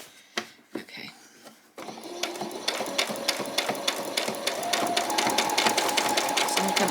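Domestic sewing machine stitching embellishment onto a butterfly costume through thick fabric, a steady fast mechanical needle rhythm that starts after a few hand clicks and runs continuously, close and clear.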